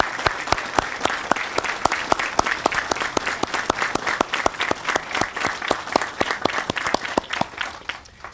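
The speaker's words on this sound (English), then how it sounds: "Let us all give you a round of applause." An audience claps for Gold Star families at a memorial bridge dedication, with sharp, distinct handclaps standing out over a thick, sustained wash of crowd applause that carries on without voices.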